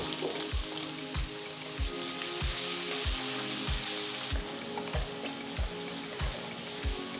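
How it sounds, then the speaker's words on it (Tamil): Chopped onion sizzles steadily in a hot pan while a spatula knocks and scrapes against it in a regular stirring rhythm. "நெக்ஸ்ட் 1 வெங்காயம் நறுக்குனது சேர்த்து வதக்குங்க"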